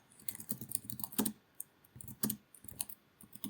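Typing on a computer keyboard while writing a caption in Microsoft Word, close and alone, with bursts of quick key clicks broken by short pauses and a couple of heavier presses.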